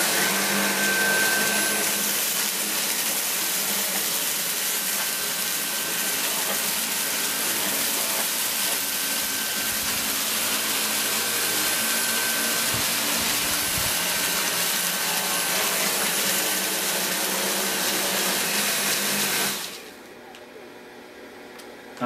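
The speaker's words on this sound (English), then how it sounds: "go along the back with the cleaner in max mode" Dyson V8 Total Clean cordless handstick vacuum cleaner running steadily in max mode, a loud continuous high whine with airflow hiss while cleaning a floor, cutting off abruptly near the end.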